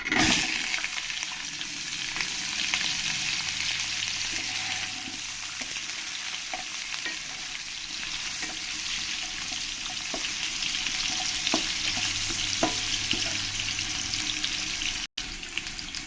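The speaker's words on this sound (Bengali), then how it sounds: "এবার আমি আলু আর ক্যারেটগুলো ভেজে নেবো" Potatoes and carrots fry in hot oil in a kadai, a steady close sizzle with occasional stirring clicks and scrapes running throughout, no voices.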